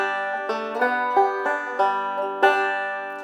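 A banjo plays Jingle Bells with an open note pinch bounce, bright plucked notes ringing in a steady bouncing rhythm, close and clear with no talking.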